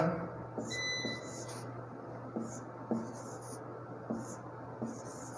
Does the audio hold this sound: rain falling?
no